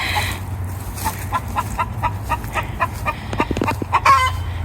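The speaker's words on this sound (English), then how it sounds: "Chickens are doing good." Chickens cluck in short, repeated bursts over a low steady hum, with a sharper squawk near the end.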